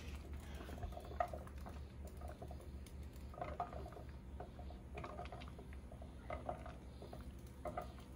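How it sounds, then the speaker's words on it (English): Low, steady rumbling bubble of water boiling inside a closed pressure canner holding jars of meat pasta sauce, with faint irregular pops and ticks over it; quiet and continuous, no talking. "You can hear it still boiling in there."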